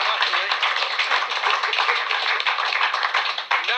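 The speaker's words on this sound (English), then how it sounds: "Give her a round of applause." Studio audience applause for a performer on a live BBC Radio Sheffield show, a dense steady patter of many hands filling the whole stretch at close range with no speech over it.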